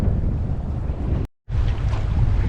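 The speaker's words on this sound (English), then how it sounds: "Now we're sailing northwest across the Western Way" Sailboat under way across the Western Way off Mount Desert Island, Maine, with steady rushing wind buffeting the microphone and water wash that drops out briefly before resuming, loud and continuous.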